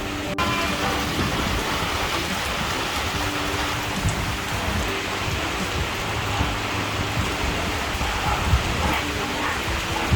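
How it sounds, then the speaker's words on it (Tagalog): Steady heavy rain on a farm hisses continuously, a dense, close wash of falling drops with no pauses. "Ala, ulan na sad."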